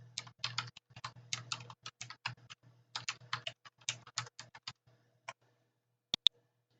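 Email typed on a computer keyboard, close rapid runs of key clicks over a faint low hum, easing into a pause and ending with a couple of sharp final taps.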